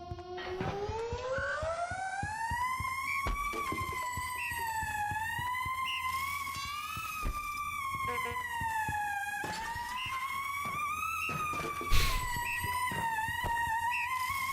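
A siren with a strong Doppler effect, from a video game in development, wails in rising and falling sweeps throughout, loud and steady with a brief sharp knock near the end.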